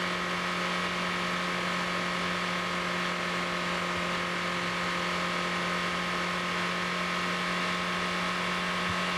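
Car engine in the Motor Town driving game, a four-gear vehicle held at steady high speed with throttle eased, a loud constant droning hum with no talk over it.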